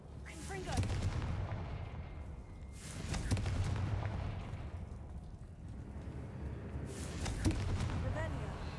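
The explosive Confringo spell in the Hogwarts Legacy game inside a tunnel in the mountains, three loud, booming blasts several seconds apart, each with a sharp crack and a long rumbling tail, with a voice speaking in between.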